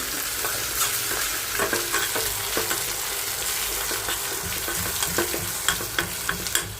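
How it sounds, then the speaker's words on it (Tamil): Ground pirandai (adamant creeper) paste sautéing in a pan for thokku, a steady close sizzle broken by repeated scraping stirs and a few sharp clicks of the spoon against the metal, with no voices. "அரைச்சி வச்சுருக்கோம் இல்லைங்களா, இதை போட்டு அப்படியே நல்லா வதக்கிக்கணும்."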